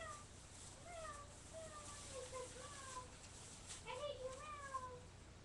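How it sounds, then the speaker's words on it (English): Several faint, drawn-out meows from a house cat, rising and falling in pitch, spread across the moment against quiet room noise. "My cat just made a weird noise"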